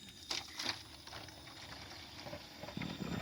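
On a goat farm, a hose runs water into buckets, making a close, bubbling, gurgling rush with some scattered knocks and splashes.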